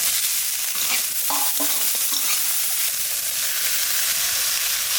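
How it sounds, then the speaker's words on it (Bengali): Prawns fry in a hot pan, a loud, steady hissing sizzle with a few brief stirring clatters early on, heard up close and alone. "চিংড়ি মাছটা একটু বাজিয়ে নিছি, এখানে লঙ্কা আর লাউ দিয়ে দেবো।"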